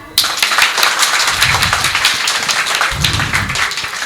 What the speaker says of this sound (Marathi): इकडे बघा सगळ्यांनी एकदा टाळ्या वाजवा.